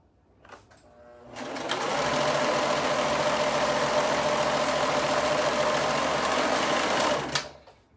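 A sewing machine runs in one long continuous burst while joining the top and bottom pieces of a bow-back dress, a close, fast, rattling whir that ramps up, holds steady for about five seconds, then stops.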